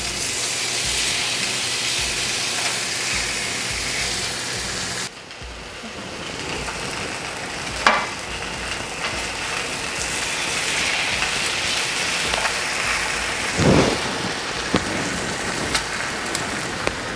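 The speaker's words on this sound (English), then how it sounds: "we're just gonna pop it into a super hot skillet. Ooh, that sizzle is exactly what you want to hear." Loud, steady sizzling of marinated lamb chops searing in a super hot skillet, a dense hiss that briefly dips then carries on with occasional pops and the clack of meat being laid in the pan.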